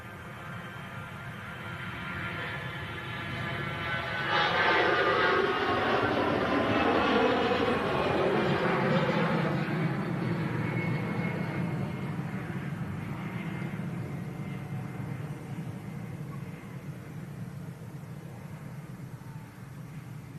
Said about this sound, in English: EasyJet going to Geneva, A320 aircraft.